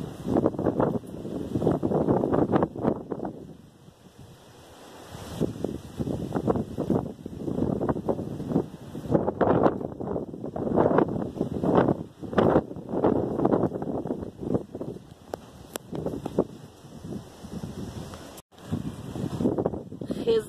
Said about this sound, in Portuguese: Tá muito vento, não sei se vocês estão conseguindo ouvir